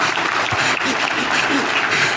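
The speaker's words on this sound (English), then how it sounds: "That's a better way to clap for Jesus." A church congregation at a resurrection sermon claps loudly and continuously, a thick sustained wash of applause with voices mixed faintly underneath.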